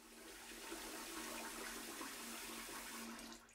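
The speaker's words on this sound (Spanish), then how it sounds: "Comenzamos por lavar el arroz al menos 3 veces, hasta que el agua quede transparente." Sushi rice is rinsed under running water, a steady, close rush of splashing and flowing water that holds level throughout and eases off at the very end.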